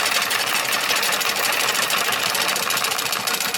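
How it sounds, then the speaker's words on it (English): A magnetic top driven by 3-phase AC power spins and wobbles at around 9 hertz, giving a loud, continuous, rapid mechanical buzz much like a sewing machine. "if we add 3-phase power, it'll start spinning, and then at about 9 hertz it'll wobble"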